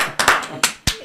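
A few sharp, close hand claps ring out at the end of a studio talk show segment, four separate claps in an uneven rhythm with brief gaps between them.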